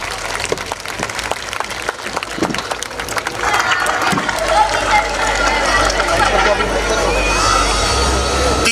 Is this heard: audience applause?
yes